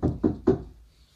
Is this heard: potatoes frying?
no